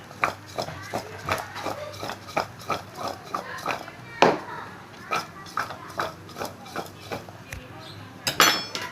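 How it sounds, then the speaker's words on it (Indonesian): Potato pieces coated in cornstarch are tossed and stirred in a bowl, producing a steady rhythm of close scraping clinks and soft thuds that repeats for several seconds. "kemudian kita aduk-aduk seperti ini supaya tepung maizenanya merata ke dalam semua kentang."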